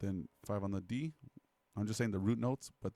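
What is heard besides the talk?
No everyday noises stand out.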